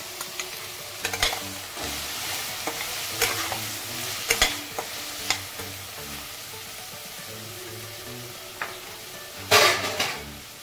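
Cabbage sizzles in a pan as it is stirred and fried, with peas added, a steady frying hiss broken by repeated scraping stir strokes and a louder clatter near the end, close up.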